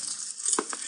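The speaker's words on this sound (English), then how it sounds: "was frying eggs and pork" Eggs and pork sizzle in a frying pan with a steady hiss, broken by a couple of soft clinks of utensil against the pan.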